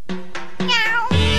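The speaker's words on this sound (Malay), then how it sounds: "Bunyi macam kucing." A cartoon cat meows several times in quick succession, close and clear, the last cry longer and louder.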